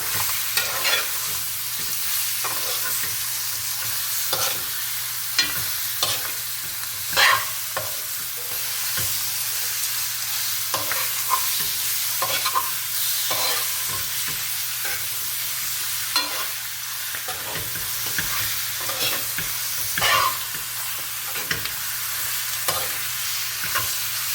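Trini-style curry chicken coated in masala fries in a pot over medium heat. A spoon stirs it in repeated scraping strokes over a constant close sizzle, with no voices.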